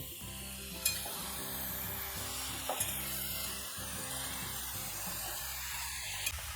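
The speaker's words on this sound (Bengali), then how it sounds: "এখন একটু ভালো করে নেড়ে চেড়ে নেব।" Bottle gourd pieces stirred in a pan, with a steady soft sizzle under repeated scraping strokes and a few sharp clinks of the spoon against the metal, close and moderately loud with no talking.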